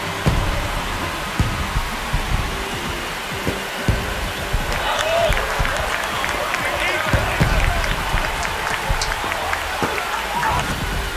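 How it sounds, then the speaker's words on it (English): A stadium crowd in MLB The Show 26 roars and applauds after a home run, a steady wash of cheering with scattered claps, while a commentator talks over it. "Here comes the crowd. They're feeling it right now."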